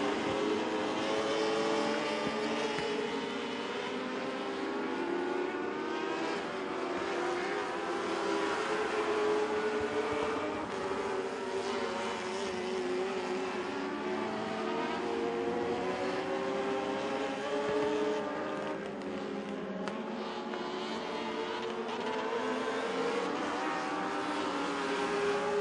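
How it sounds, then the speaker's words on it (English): Modified race cars at Crossville Speedway running a heat race, a steady distant engine roar that holds for the whole stretch with shifting pitch as the cars circle, fairly faint and without voices. "Good battle between Andy Brown and the C4 and the 51 of Jonathan Allen"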